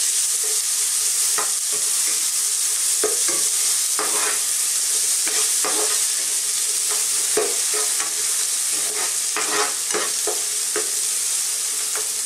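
Ginger and onion sauté in a pan for sarciadong tilapia, a continuous loud sizzle broken by frequent spatula scrapes and stirring knocks, close and with no talking.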